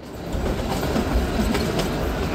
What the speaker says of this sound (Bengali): মাঝখানে ট্রেনটা যাচ্ছে